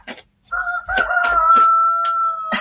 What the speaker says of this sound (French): Il y a le coq qui dit oui, c'est ça.